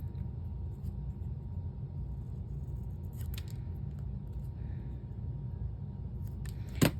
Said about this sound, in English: I'm gonna cut it down really small.